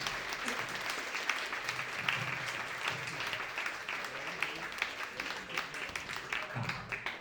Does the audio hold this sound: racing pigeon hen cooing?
no